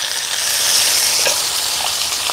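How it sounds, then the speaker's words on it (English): Large shrimp sizzle and fry loudly in melted butter in a very hot pan, a dense, steady crackle filling the whole stretch with no voices over it. "it's a lot of sizzling"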